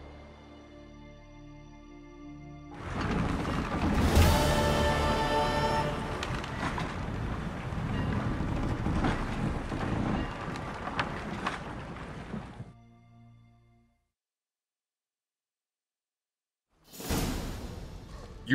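Ship setting sail in The Witcher 3, a broad rushing whoosh of water and wind swelling for several seconds then fading to silence, before another short surge at the end.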